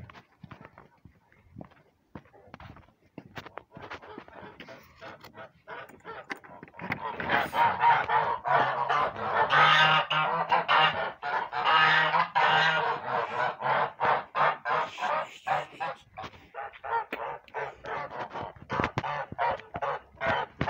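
A flock of geese, just let out of their pen, honks repeatedly and loudly, the clamor building after a quieter start, with rustling and footsteps throughout.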